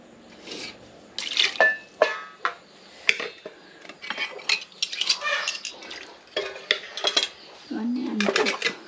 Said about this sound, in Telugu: చింతపండు బోల్ తోమడానికి అనమాట